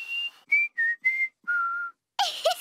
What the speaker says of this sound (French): Peppa a appris à siffler.